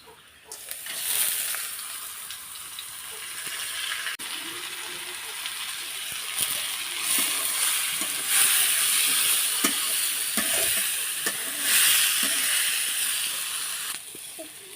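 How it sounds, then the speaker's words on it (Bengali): Soaked red lentils tipped into hot oil and turmeric in a village-style kitchen, a steady bright sizzle and hiss that swells and holds for the full stretch, close and fairly loud with no talk over it. "এখন আমি দিয়ে দিচ্ছি ভিজে রাখা সেই মুসুর ডাল।"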